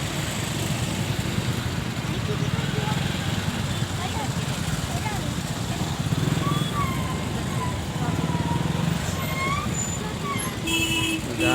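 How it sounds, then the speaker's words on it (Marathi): Heavy traffic in a jam on the roads of Phaltan rumbles close by with engines idling, while scattered horn toots ring out and people talk nearby. "सगळं फुल ट्रॅफिक लागलंय."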